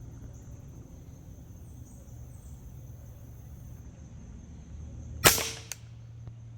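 A single sharp crack from a Hatsan Invader air rifle rings out near the end after several seconds of low background hum, with a brief faint click following it.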